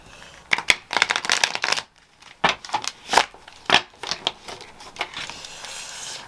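Tarot cards being reshuffled by hand, a run of crisp riffling and papery flicks in quick bursts, close and fairly loud, with short pauses between passes and no talking.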